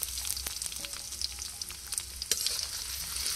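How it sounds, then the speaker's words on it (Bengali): Chopped onion and fresh home-grown garlic, with bay leaf, sauté in a pan for a chicken curry, a dense continuous sizzle broken by light scraping strokes. "আর পেঁয়াজ কুচি দিয়ে একসাথে কষিয়ে নেব।"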